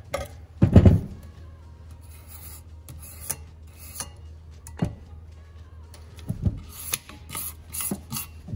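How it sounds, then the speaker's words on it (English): Old oil sludge is scraped off the crankshaft of an LS 5.3 engine with a tool, giving irregular close rasping scrapes and knocks, with a louder burst near the start and quieter strokes after. "I just scrape that off the crank"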